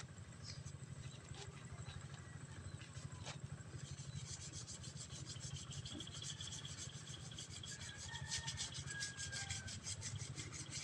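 Sandpaper rubbing over a metal gate, producing a continuous, even rasping scrape that keeps going at a quiet to moderate level throughout.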